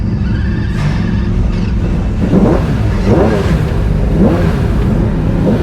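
A McLaren F1 GTR pulls away on a hot lap, its engine droning loudly from inside the cabin and rising in repeated revving surges as it accelerates, with no talk over it.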